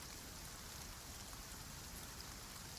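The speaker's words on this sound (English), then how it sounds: "Rain patters against the glass overhead, slow, thick and steady" Rain patters slow, thick and steady on the glass roof of a quiet greenhouse on a rainy evening, a dense continuous wash of droplets, close and even, with no voices.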